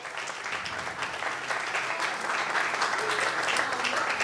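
Churchgoers at a Resurrection Day prize distribution applaud children coming forward for prizes. The clapping is sustained and dense, rising slightly, with faint voices mixed underneath.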